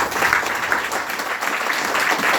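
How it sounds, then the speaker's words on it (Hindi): Brief burst of audience applause at a meeting, a moderate wash of many hands clapping together at steady intensity. "उनके नाम पर एक जोरदार ताली लगाई"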